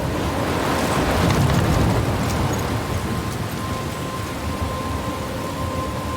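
A storm in the video game Life Is Strange: steady rain and crashing ocean waves blend into a continuous broadband roar with wind, loudest early on and then holding steady, with no voices.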